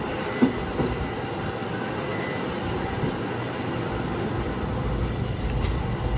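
The Glacier Express train in Switzerland rumbling steadily as it slows at a halt, a continuous low rolling drone with faint wheel noise, heard from inside the carriage.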